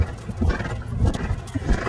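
Hooves of a young three-year-old warmblood horse cantering in an outdoor arena, a steady three-beat clip-clop rhythm with soft thuds, fairly close and loud, with a brief whinny-like note.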